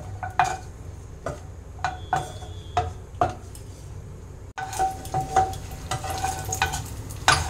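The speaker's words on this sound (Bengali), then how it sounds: "সবার প্রথমে কাজুগুলো একটু ভেজে নেব।" Cashews frying in mustard oil in a pan, with a soft sizzle under repeated scraping stirs and light clinks of a spoon against the pan, close by, growing busier toward the end; no voices.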